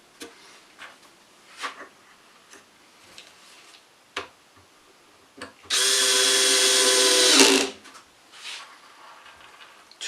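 Power drill driving a screw into the side of a wooden window flower box, a single loud whirring burst of about two seconds, preceded and followed by light taps and handling clicks on the wood.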